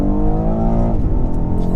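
A BMW X4M Competition accelerates hard, its engine note a steady, loud, rising drone from inside the car.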